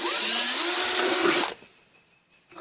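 A step bit bores through the thin sheet-metal wall of a #10 can for a hobo stove, a loud, steady whining drill grind lasting about a second and a half before cutting off into faint rustling.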